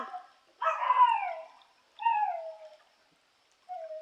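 A dog howls in three drawn-out, wavering cries with quiet gaps between them, the last one cut short; no other sounds.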